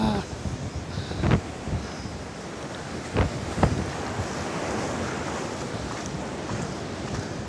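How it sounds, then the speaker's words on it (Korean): A steady rushing surf roar with wind noise during Typhoon Maysak, a few sharp bumps and knocks on top, waves washing in at a distance at a beach. "자 파도를 한번 좀 보여드리겠습니다"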